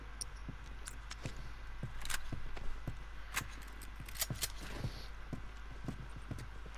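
Horse hooves clip-clop in a steady walking rhythm in The Last of Us Remastered, crisp repeated knocks over a low constant hum with no talk.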